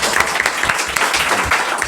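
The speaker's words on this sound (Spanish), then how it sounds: "fuerte aplauso" Applause from an audience at a comic book presentation for a guest in the room, a steady, fairly loud patter of clapping that continues without pause across the whole stretch.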